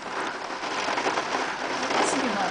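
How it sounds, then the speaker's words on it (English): Heavy rain pours down outside a house, a dense, steady hiss of drops hitting surfaces that holds constant throughout with no pauses or talking. "Raining this hard, you never know."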